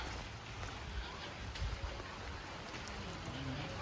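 Steady light rain patters continuously on surfaces, a soft, even hiss with scattered drops throughout.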